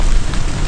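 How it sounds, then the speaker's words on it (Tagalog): Rain beginning to fall outdoors, a dense continuous patter of drops on surfaces, fairly loud and even throughout with no talking. "Simula na yung ulan."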